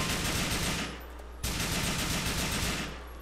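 Sustained automatic gunfire in a GTA IV online deathmatch, two loud, dense bursts of rapid shots, each roughly a second long, with a brief gap between them.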